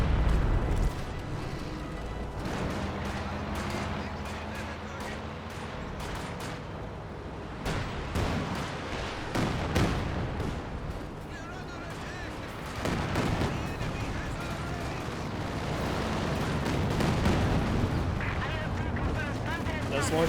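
An artillery barrage in Company of Heroes 2, a 4v4 match, with repeated booming shell impacts and gunfire crackling continuously over about twenty seconds, moderately loud, while a voice commentates throughout.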